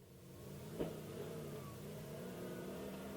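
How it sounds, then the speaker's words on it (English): An off-road vehicle engine runs steadily during slow rock crawling near the North Rim of the Grand Canyon, a moderate continuous drone with one brief knock partway through. "Got to do a little rock crawling here, Uptane."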